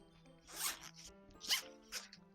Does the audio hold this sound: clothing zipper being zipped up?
yes